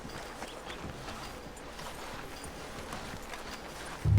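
Horse hooves clip-clop in Red Dead Redemption 2, a soft, steady stream of hoof falls at walking pace over a faint ambient game backdrop, with no talking.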